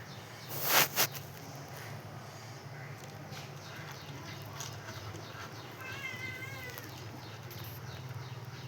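A kitten meows in a few short, wavering cries amid a low steady background hum, with a sharp loud knock near the start.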